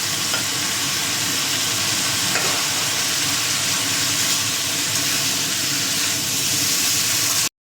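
Water poured into a hot frying pan of Katwa-style data chorchori (drumstick/stalk vegetable curry) sizzles loudly and steadily, with a constant broadband hiss and faint stirring scrapes throughout, no voices.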